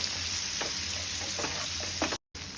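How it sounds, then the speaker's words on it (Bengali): Onion and capsicum frying in a pan for chilli paneer, a steady close sizzle with several soft stirring scrapes and a brief dropout near the end. "এটা একটু নেড়ে সামান্য একটু নেড়ে এটা ভেজে নেব"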